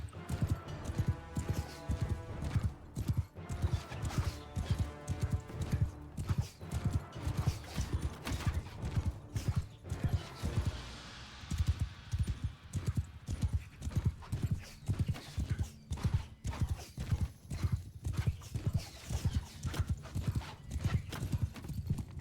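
Galloping horse hooves pound in a rapid, steady rhythm through a Mount & Blade Bannerlord battle, loud and continuous for the whole stretch with occasional clanks and battle noise mixed in.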